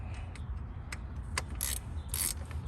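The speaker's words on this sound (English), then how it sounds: "Now I hand tighten these with the ratchet." Bolts on an oil filter housing and intake manifold are hand tightened with a ratchet, giving a few quiet, close, irregular clicks and ticks over low background noise.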